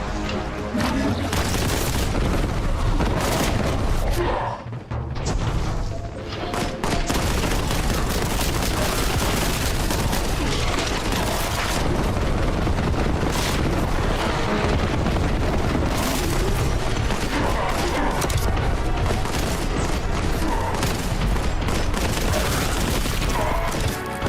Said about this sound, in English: As a Boltgun should sound, right? It's basically a miniature rocket launcher, right?